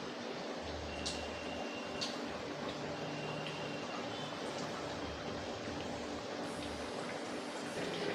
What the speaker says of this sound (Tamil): பாருங்கள் குழம்பு நல்லா கொதிக்குது